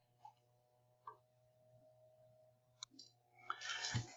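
A computer mouse gives a few faint, sparse clicks in a quiet room while opening Messenger, with a soft burst of rustling noise near the end.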